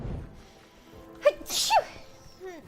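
A person sneezes once, a sharp, loud burst preceded by a short intake of breath, with a faint voice sounding shortly afterward.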